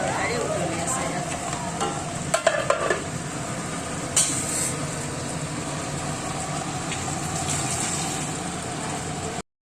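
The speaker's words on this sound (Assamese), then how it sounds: "লোকেল মুৰ্গী তৰকাৰী উতলি আছে ইয়াত" Local chicken curry simmers in a pot with a steady, dense bubbling hiss throughout, broken by a few sharp clinks of a utensil against the pot just after the two-second mark.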